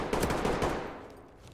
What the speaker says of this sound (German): Schüsse irgendwo.